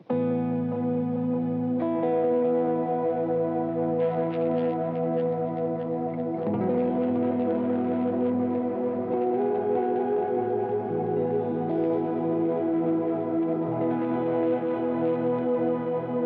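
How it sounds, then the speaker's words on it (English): A sustained, effected guitar-pedal tone with soft delay repeats washing behind it, filtered and lightly shimmering, steady and continuous without any voices. "the third option is just a filtered version with a little tiny bit of shimmer"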